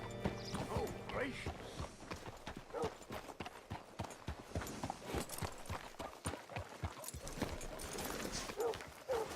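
Horse hooves clip-clopping steadily in Red Dead Redemption 2, close and rhythmic throughout, mixed with ambient game sounds and some talk.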